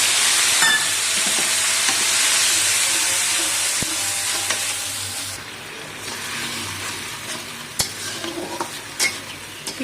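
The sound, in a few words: onion paste frying with bay leaf, cardamom, cloves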